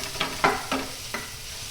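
Onions and tomatoes cooking in a pan for dosa with mushroom gravy, with a few spoon stirs scraping through it at close range, four distinct strokes over a low steady sizzle.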